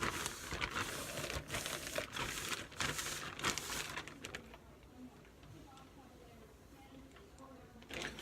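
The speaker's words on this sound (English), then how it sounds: "Doing the plastic bag kind of rough just to lay it down extra better than how it was." Plastic bag crinkled and pressed roughly over hair, loud close crackling and rustling for about four seconds, then fading to faint scattered crinkles.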